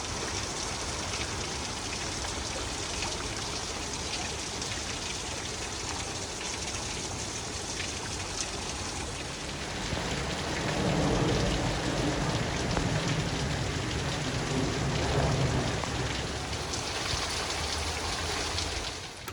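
Rain falls outside in a dense, continuous hiss of drops on surfaces, swelling slightly heavier partway through and staying steady with no voices.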